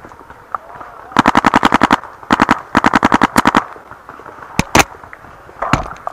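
Paintball marker fired in the woods, several rapid bursts of sharp popping shots with a few single shots after, close and loud over quiet outdoor background.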